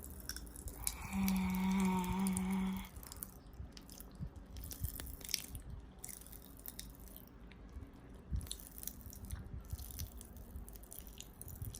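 Popping candy crackles and snaps in the mouth of someone eating it, sparse quiet pops and clicks spread over several seconds at close range after a brief steady tone near the start.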